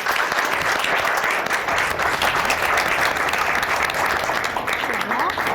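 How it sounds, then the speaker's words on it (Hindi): Enthusiastic audience applause at an award ceremony, dense continuous clapping from a crowd with a faint voice mixed in near the end. "भरपूर तालियों में"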